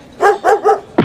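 A dog barks three times in quick succession, loud and close, with a voice cutting in right after the last bark.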